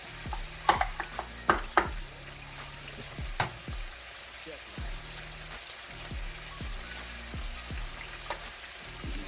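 Three eggs fry in a pan with a steady crackling sizzle, punctuated early by a cluster of sharp clicks and taps from a utensil, then settling into even, close frying noise.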